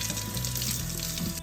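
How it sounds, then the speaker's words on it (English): Brass jewelry rinsed under a steady stream of running tap water, a continuous close splashing and gurgling that fills the whole moment without any talk. "I'm going to rinse them out in clean water."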